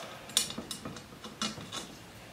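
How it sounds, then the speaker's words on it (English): A stainless steel D-ring being unscrewed, a handful of faint, close metallic clicks and ticks spaced irregularly over a couple of seconds. "This is a stainless steel D-ring. And it actually threads off."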